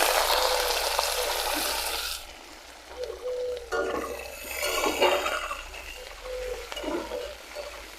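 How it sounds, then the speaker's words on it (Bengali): Chopped onion, whole garlic cloves and bay leaf frying in hot oil in a home kitchen, a steady sizzle with stirring scrapes, loud broadband hiss at first and then softer crackling with intermittent clinks of the spoon. "পেঁয়াজ ভাজা হয়ে গেছে"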